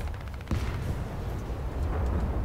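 A tank cannon fires in a team battle game, one sharp heavy boom that rings out over a rumbling engine and battlefield ambience.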